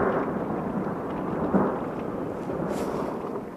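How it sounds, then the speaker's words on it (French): Violent thunderstorm over Carpentras in March, with a continuous loud rumble of thunder swelling briefly around the middle and rolling on without pause, no voices. "On est en train d'avoir un orage de fou là."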